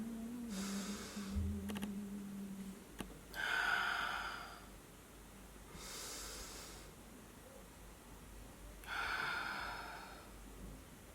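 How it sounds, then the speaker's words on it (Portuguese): Slow, deep breaths during a meditation: airy inhales and exhales arrive in separate bursts a few seconds apart, soft and close, with quiet pauses between them and no talking. "Tome o tempo comigo e faça uma respiração."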